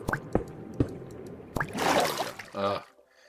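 Water in the Minecraft video game gives a few sharp drip-like plops, then a rushing splashy burst and a short tonal game sound, with a brief voice in the background.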